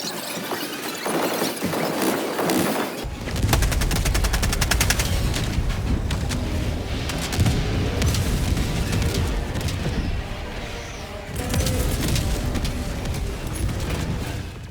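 A napalm stratagem strike and gunfire in Helldivers 2: rapid machine-gun bursts rattle over a roaring fiery blast and screeching enemies, loud and sustained with brief lulls.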